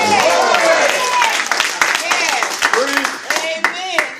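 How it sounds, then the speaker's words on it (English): A church congregation claps hands in scattered, uneven bursts while a voice shouts and talks loudly over the clapping, the sound close and lively. "Clap your hands and shout glory."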